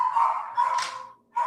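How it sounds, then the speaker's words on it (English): Dogs bark and yip in quick close bursts, three loud barks separated by a short pause, sounding agitated and near. "So, Brayden, go get the dogs."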